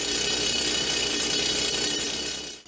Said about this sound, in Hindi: ये मजदूर ड्रिल मशीन से एक और सुरंग बना रहे हैं।